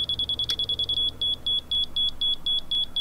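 A laser level receiver beeps rapidly in short, evenly spaced high-pitched pulses, faster as it nears level, steady and fairly loud, with faint low background hum.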